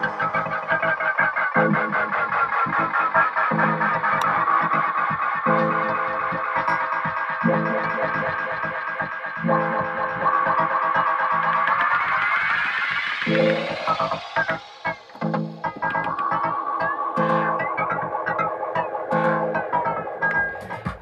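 Looping electronic music from a Pioneer XDJ-RX DJ controller throbs through a feedback delay effect, its repeats smearing and sweeping upward in pitch before chopping back into a rhythmic, distorted pulse.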